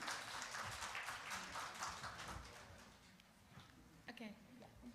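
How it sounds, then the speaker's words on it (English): Audience applause for the conference chairs in a hall at an international conference, a dense patter of clapping that fades over several seconds, with a few faint voices near the end. "please, a round of an applause to our chairs"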